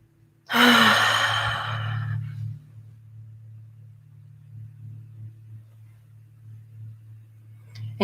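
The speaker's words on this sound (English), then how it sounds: "Now I invite you to take a bigger breath in here." A deep inhaled breath during a yoga session, loud and close for about a second and a half, then fading into a low steady hum and near quiet.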